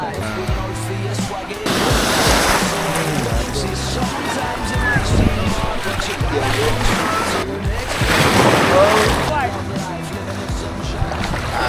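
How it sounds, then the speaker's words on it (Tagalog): Strong surf surges and crashes in broad washes of noise at a surf school beach, with talking voices over the waves throughout. "Pre, lakas ng alon. Malakas yung hampas ng alon pag nasa dulo na yun."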